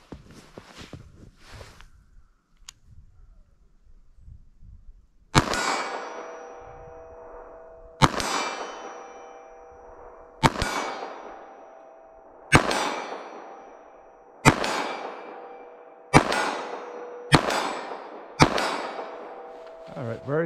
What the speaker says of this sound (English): why not shoot at steel with that M&P?